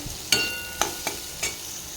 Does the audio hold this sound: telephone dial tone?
no